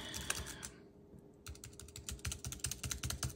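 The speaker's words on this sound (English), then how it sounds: "Just try typing something." Keys click on the Bluetooth keyboard of an iPad Air folio case: a few taps, a brief pause, then a quick, even run of soft, close keystrokes.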